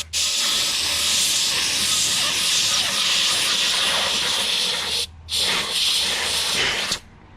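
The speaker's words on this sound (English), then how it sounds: "I'm going to try to get this tip up underneath here, spray some air, and try to get it off" Compressed air hisses steadily under a silicone foam handlebar grip on an Ariel Rider Rideal e-bike, a loud close blast that runs almost continuously, breaking briefly twice.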